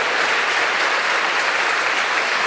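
Steady, dense applause from a large church congregation, loud and continuous throughout with no voices standing out.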